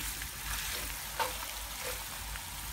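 Mutton pieces fry and are stirred in a cast iron pan while being cooked down dry, making a soft continuous sizzle with faint scraping and one small clink.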